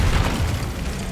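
An Incendio fire spell cast in the Hogwarts Legacy video game, a loud, dense rumbling burst that fills the whole moment with sustained low roar and crackle.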